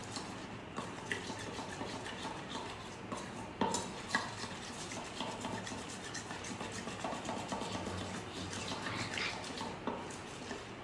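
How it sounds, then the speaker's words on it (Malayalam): Melted chocolate is stirred together with sunflower oil in a bowl, giving a soft, continuous scraping and clinking of a utensil against the dish, quiet and close with small irregular knocks. "ഇനി ഇതിലേക്ക് ഒരു 1/2 ടീസ്പൂൺ അളവിൽ സൺഫ്ലവർ ഓയിൽ ചേർത്ത് കൊടുക്കുക. ഇത് നന്നായിട്ടൊന്ന് മിക്സ് ചെയ്തെടുക്കുക."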